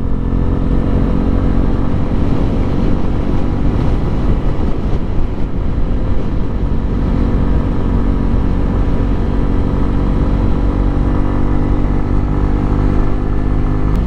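A Honda motorcycle being ridden near Málaga makes a steady, loud, low engine drone with wind rush, continuous and close for the whole stretch, with no speech.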